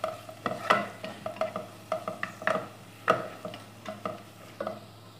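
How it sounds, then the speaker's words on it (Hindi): Crushed ingredients and a green chili lightly frying in a pan for Kokni-style sarso ka saag, with a soft steady sizzle broken by repeated spatula scrapes and stirs at a close, moderate level. "एक हरी मिर्ची ऐड करके इसे बस हल्का सा भून लेंगे"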